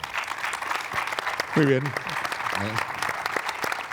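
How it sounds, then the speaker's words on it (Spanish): An audience applauds at the close of a conference panel in a hall, a steady wash of clapping at moderate volume with a voice speaking briefly over it. "no ha habido necesidad de pedir aplauso porque os lo han dado"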